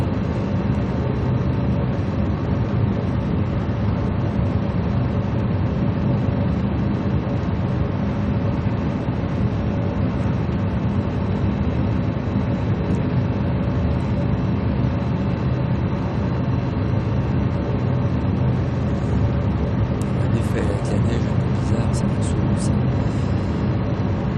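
A Microsoft Flight Simulator 2024 aircraft engine drones steadily over the Mont Blanc massif, a continuous dense broadband roar at even loudness for the whole stretch, with brief faint higher chirps near the end.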